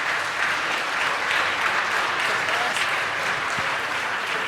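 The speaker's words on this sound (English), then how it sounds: "let's give these wonderful AP students, government class, a great round of applause and welcome them to City Council" Steady, full applause fills a city council chamber as an audience welcomes a visiting AP government class, many hands clapping evenly and continuously at moderate distance without letting up.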